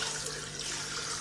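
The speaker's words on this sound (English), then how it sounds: "Add sufficient water" Water poured into a pressure pot holding meat for cooking, a short steady splashing rush at moderate level with no talk.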